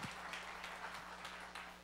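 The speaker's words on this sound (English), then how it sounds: "One more time, can we give the Lord a hand clap?" Steady applause from a church congregation, a dense wash of many hands clapping together at a moderate, even level for the whole stretch.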